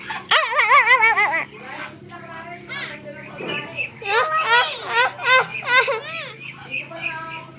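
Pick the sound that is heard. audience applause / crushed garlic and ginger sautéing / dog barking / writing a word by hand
dog barking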